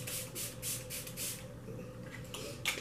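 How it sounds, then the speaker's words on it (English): Smashbox Photo Finish Primer Water misted onto a face from a pump spray bottle, a few short soft hissing spritzes in quick succession, close and quiet, with no talking. "we're going to put on the Smashbox Photo Finish Primer Water and spray that on."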